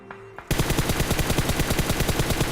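Automatic gunfire in PUBG Mobile erupts suddenly after a quiet moment, a rapid, evenly spaced burst of loud close shots that continues without pause.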